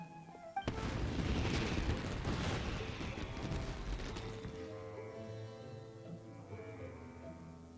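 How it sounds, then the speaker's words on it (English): Fireworks go off in Genshin Impact: a sharp opening bang, then a long, rumbling, crackling burst that slowly fades as gentle game music takes over. "Yoimiya, this is turning into a bit of a fireworks display"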